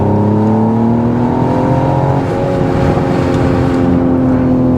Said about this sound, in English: Let's get out of the manual and give it full throttle here.